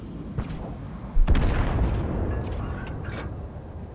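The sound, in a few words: tank cannon fire in a tank video game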